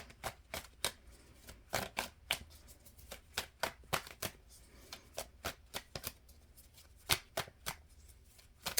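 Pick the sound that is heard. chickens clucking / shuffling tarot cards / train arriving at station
shuffling tarot cards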